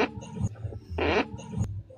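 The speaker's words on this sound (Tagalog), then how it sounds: "Uy, umutot ka, ate, ah." A short, low, rumbling fart burst in the middle, with other low rasping noises around it, fairly close and loud.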